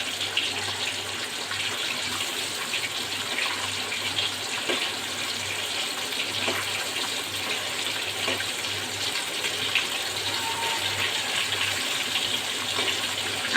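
Tara fish frying in hot oil under a lid spits and sizzles in a constant loud hiss, with faint small pops scattered through it and no voices.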